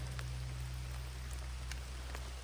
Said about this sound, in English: I believe the rain is starting to subside